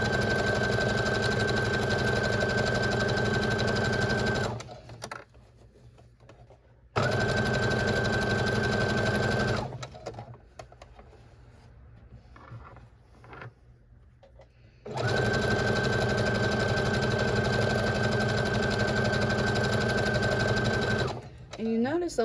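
A sewing machine stitches strip-pieced quilt fabric in three sustained, loud runs of fast even whirring, with a person talking in the pauses between runs.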